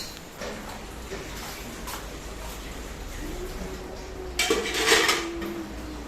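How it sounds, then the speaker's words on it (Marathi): Spoons and small metal utensils being scrubbed and knocked together while dishes are washed at home, soft scraping broken by a louder, brighter burst of clinking metal near the end. "सगळे चमचे वगैरे मला सगळं काही जे बारीक मिरीक असेल ना सगळं छान घासलं"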